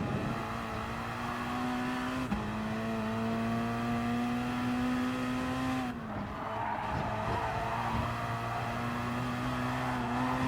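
Gr3 race car engine on the Nordschleife in Gran Turismo Sport, a loud steady high-revving drone that dips briefly at a shift, with brief tire squeal and skidding through corners.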